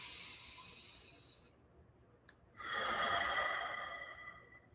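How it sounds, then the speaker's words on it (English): A slow, deep breath drawn in and let out during a guided meditation, the hissy inhale fading, then a short gap and a fuller, louder exhale, close up. "let's take a breath on this"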